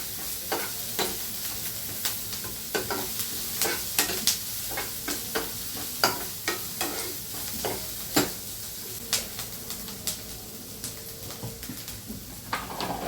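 Onion frying in a pan until golden, a continuous gentle sizzle broken by regular sharp scrapes and taps of a spoon stirring, fairly quiet and without speech.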